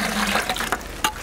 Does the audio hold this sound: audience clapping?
no